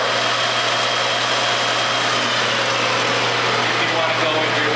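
A TOS 16x40 engine lathe runs at high spindle speed, giving a steady, even mechanical whine and hum that stays constant throughout with no breaks.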